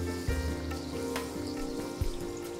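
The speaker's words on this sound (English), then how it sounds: "try to fry one at a time because they cook better" Kachoris fry one at a time in hot oil, giving a low, steady bubbling sizzle with a few soft knocks, close and moderately quiet.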